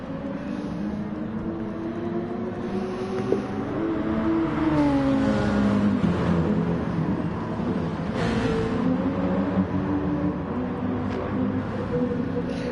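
Race car engines from Nissan, Peugeot and BMW GT cars in a racing video game at Circuit de Barcelona-Catalunya, droning and revving continuously with pitch sweeps as gears shift, loud and steady throughout.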